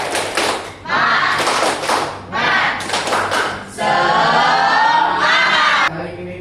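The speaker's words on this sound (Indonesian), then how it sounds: "Tepuk semangat." A school class claps out a rhythmic spirit cheer in a classroom, bursts of loud unison clapping in a patterned beat with short pauses between phrases, with some children's voices shouting along.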